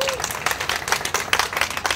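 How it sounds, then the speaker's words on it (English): An audience at a Hyatt Court Center of Hope community refrigeration event applauds Councilman Michael Silva, with loud, dense clapping and voices mixed in over a brief burst. "Let's give Councilman Silva a big round of applause."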